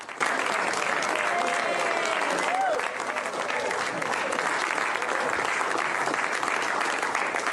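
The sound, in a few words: applause in the Oval Office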